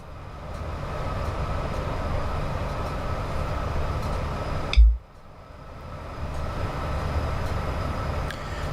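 Train running in the video game Train Sim World 5 on the West Coast Main Line in snow, a steady rumbling cab drone that cuts out abruptly midway with a thump, then builds back up.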